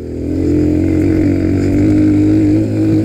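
A Victory MRX 150 enduro motorcycle riding a dirt road, its small single-cylinder engine droning steadily and close with a harmonic-rich hum, load rising and easing slightly, no talk.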